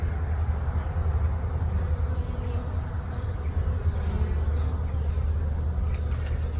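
Honeybees drone in a hive box whose bottom box is full of bees, a steady close hum with a low rumble beneath it that never lets up.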